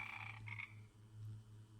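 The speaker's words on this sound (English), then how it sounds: "Whose frog is this?" A small frog croaking close by, a low steady buzzing croak with a brief break, alone in a quiet room.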